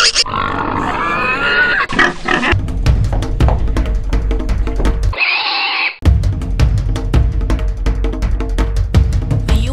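Pig squeals and grunts in a public service ad about wasted electricity, loud and close, coming in rapid punchy bursts with a brief break partway through.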